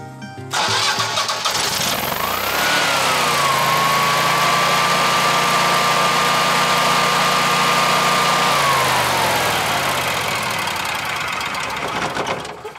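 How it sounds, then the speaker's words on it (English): A Generac 17KW whole house generator starts up and then runs at a steady, loud, constant engine drone for several seconds before winding down, with no talking. "Starts generator."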